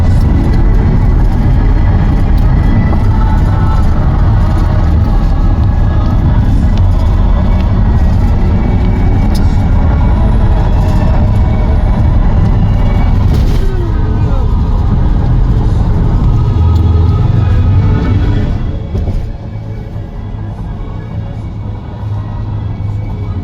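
A car on the move, heard from inside as a steady loud engine and road rumble that holds for most of the stretch before easing down near the end, with people talking over it.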